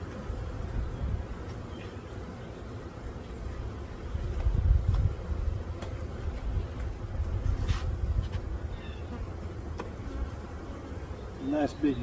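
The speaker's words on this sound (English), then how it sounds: "Nice big drone buzzing there right there." A drone honeybee buzzes at an open hive during inspection, a low steady hum swelling near the middle, with faint handling noises and a soft voice in the background.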